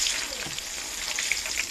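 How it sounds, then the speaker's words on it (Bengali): White dabri fries in oil over a low gas flame for homemade chanachur. A brief, even sizzle with soft crackling sounds close up and uninterrupted. "এখন আমি সাদা ডাবরিতে ভেজে নিব"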